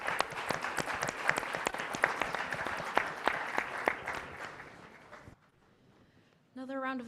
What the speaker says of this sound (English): Another round of applause for this incredible panel.